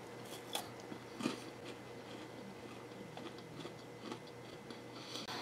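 Someone bites and chews a Kit Kat Tiramisu bar with milk chocolate and white coating. Soft, faint crunches and clicks come up close in a quiet room, spaced unevenly.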